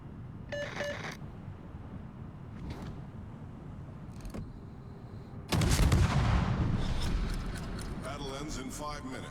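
Main battery guns fire from a warship in a naval battle game, one heavy booming salvo with a long rumbling tail after several sharper distant shots and game interface chimes, while someone talks over it.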